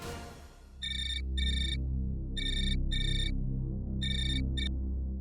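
An electronic phone ringtone plays in short repeated bursts of bright tones over a low droning background, fairly loud and close.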